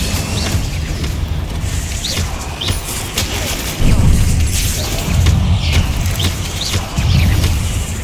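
Incendio fire spells blasting in Hogwarts Legacy: several low booming bursts roll out one after another beneath a dense, loud layer of game effects, with faint chirping squeaks overhead.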